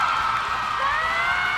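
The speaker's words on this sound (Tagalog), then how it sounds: "Deserve nyo ang hiyawan sa loob ng studio." Studio audience on a televised Filipino singing show cheering and whooping continuously at moderate volume, a dense wash of crowd voices with no clear talk above it.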